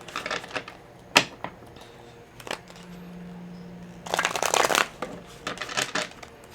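Tarot cards are handled: a few scattered flicks and a steady low hum lead into a dense, close burst of shuffling riffles, followed by lighter card taps. There is no speech.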